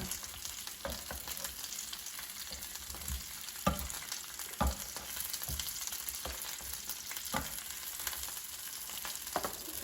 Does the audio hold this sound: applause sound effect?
no